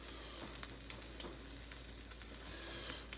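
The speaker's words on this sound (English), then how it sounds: "But the sizzling, it's starting to slow down a little bit." Steady, quiet sizzling of a sandwich frying in a pan on the stove, a continuous hiss with occasional small pops and crackles, close by and without voices.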